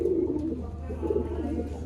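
Pigeons in a loft give low, rolling coos that repeat in soft waves over a steady hum, close and fairly loud, with no talk over them.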